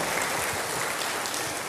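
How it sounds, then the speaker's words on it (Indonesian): A church congregation applauds together, a steady wash of many hands clapping at moderate volume for a short stretch. "Berikan tepuk tangan bagi Tuhan."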